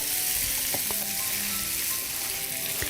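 Paneer shallow frying in a pan gives a steady, loud sizzle throughout, with a few sharp clicks and scrapes of stirring on top.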